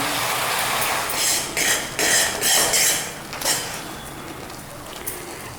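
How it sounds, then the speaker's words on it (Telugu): Gongura leaves fry in oil in a pan, giving a steady crackling hiss. Louder bursts of stirring and scraping against the pan come and go. "గోంగూర ఇంకా ఇలాగా ఆయిల్లో మంచిగా వేగుతున్నది"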